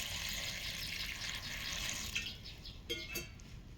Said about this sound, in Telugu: ఇప్పుడు వాటర్ పోద్దాం, తగినంత వాటర్ అయితే పోద్దాం.